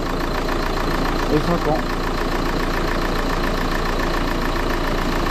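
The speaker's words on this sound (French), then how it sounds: "Et là on a un bon bruit de moteur" A Renault 1.5 dCi diesel engine runs steadily after a timing belt change, a continuous close mechanical hum and clatter with someone speaking over it briefly.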